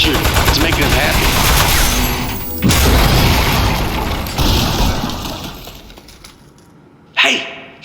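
Rapid, loud gunfire pounds almost continuously in the video game Desk Job, punctuated by booms, then fades before a final sharp shattering crash.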